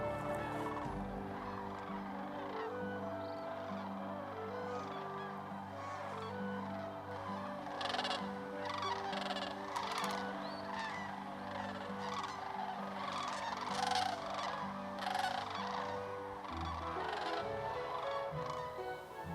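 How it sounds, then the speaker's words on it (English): Large flock of migrating sandhill cranes at a northern Indiana marsh stopover, many overlapping rattling, bugling calls forming a dense continuous chorus, steady and fairly loud throughout. "The return of tens of thousands of sandhill cranes to the wetlands of northern Indiana"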